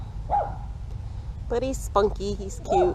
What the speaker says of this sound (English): That's our neighbor's dog.